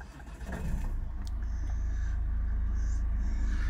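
A 2012 Ford Kuga Titanium with a 2.0 TDCi diesel is push-button started, the engine catching and settling into a steady low idle rumble heard up close.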